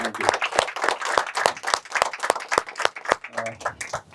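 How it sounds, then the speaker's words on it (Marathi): An audience at a Borivali event claps to welcome a guest with brisk, uneven rounds of applause. Faint voices sit beneath the clapping. "पाहुण्यांबद्दल वाटतंय जरा जोरात टाळ्या अजून झालं तर बरं."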